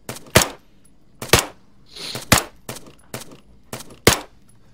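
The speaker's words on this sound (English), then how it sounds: "guy with a really big rifle is shooting at us from the hill" Gunfire in the military video game Arma 3, with about eight loud, sharp shots spaced roughly half a second to a second apart, each booming report standing alone with no talk.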